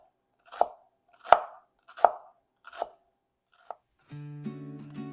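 A knife chops through a shallot on a board with crisp, evenly spaced strikes, five cuts about one per second, close and clear, before a short burst of tonal background noise at the end.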